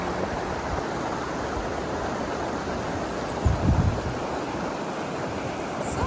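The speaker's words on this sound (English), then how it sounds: "If you cross the river on the way to the church, you can find there a wonderful waterfall." Steady broadband rush of falling water from a waterfall beside a river, a constant full roar with a brief louder burst midway, no voices.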